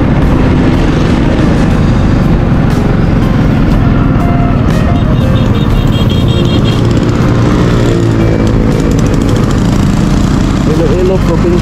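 Road traffic rumbles steadily around a van near Haro, Iloilo, with engines droning loud and close throughout and a voice speaking over the noise.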